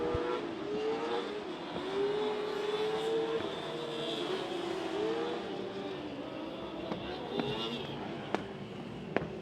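1200 mini sprint race cars roar down the back straightaway of a dirt track on the final lap, a steady loud engine drone with rising and falling revs, under a commentator's continuous talk.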